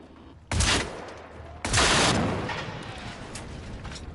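Two heavy shotgun blasts fired at enemies in Generation Zero hardcore mode, each a loud sharp boom with a long rumbling decay, the second about a second after the first, with no talk.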